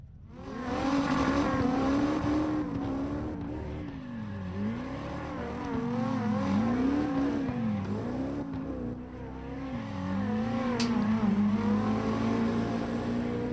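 A race car from a Los Angeles block-course event revs and accelerates hard, engine pitch climbing and dipping with each gear change and turn, loud and steady, with a brief tire squeal.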